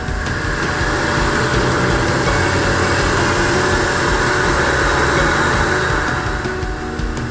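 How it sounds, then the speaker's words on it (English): A 7-flute Multicut XF end mill with polychrome coating cuts P20 steel at about 5,000 RPM, giving a loud, steady, unbroken machining whine with constant spindle drone throughout, no voices. "we are using a 7-flute Multicut XF with a polychrome coating to machine P20"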